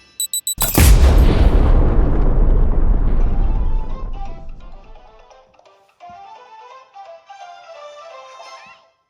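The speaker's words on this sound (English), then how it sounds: "Best explosion yet." A big explosion in the Kirby and the Forgotten Land video game: a sudden loud blast after a few short pops, a roaring rumble that fades over several seconds, then light chiming game music and effects, no talking.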